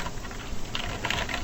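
Computer keyboard arrow keys pressed in a bash shell, a quiet, rapid patter of light clicking keystrokes close up, with no talking.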